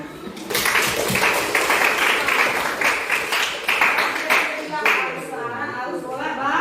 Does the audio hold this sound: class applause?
yes